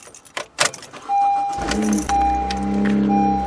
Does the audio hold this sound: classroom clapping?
no